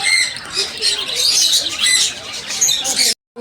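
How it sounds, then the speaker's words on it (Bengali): Birds chirp and twitter in an ashram garden full of trees and roses, a busy chorus of bright, overlapping calls that stays fairly close and steady before cutting off abruptly. "কিচিরমিচির শোনা যাচ্ছে।"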